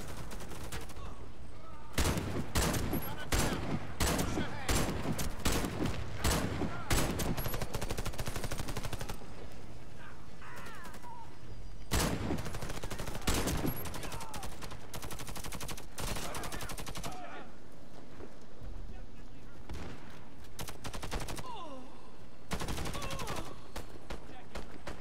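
Gunfire in the video game Warface crackles in rapid automatic bursts and single sharp shots, loud and close, clustered early and again in the middle and end, with quieter gaps between.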